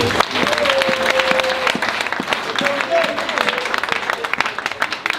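A church convention congregation breaks into loud, dense sustained applause, near and filling the space, while voices call out over the clapping.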